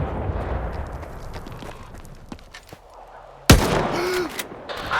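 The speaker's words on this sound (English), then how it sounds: "Explosion!" An explosion in the video game S.T.A.L.K.E.R. 2 bursts in suddenly and loudly after a stretch of quieter ambient rumble, then trails off into a rough, sustained roar.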